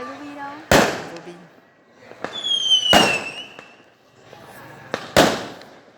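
Village fireworks bursting in three loud, sharp blasts about two seconds apart, with crackling tails and rising whistles between them, while people talk nearby.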